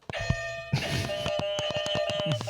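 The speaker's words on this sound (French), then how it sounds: "chacun envoie un coup de buzzer, Lucas" A quiz buzzer sounds during a football podcast game: a steady electronic tone with a ringing harmonic buzz that holds for about two seconds, broken by several sharp clicks as players hit the button.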